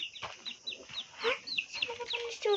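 A chick or chicken making a quick run of high, thin cheeping and clucking calls at close range, in short repeated bursts.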